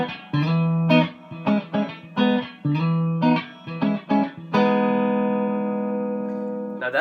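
An electric guitar plays the shuffling opening of a song: a bouncy run of short, choppy chord stabs, then a single chord left ringing out and fading slowly.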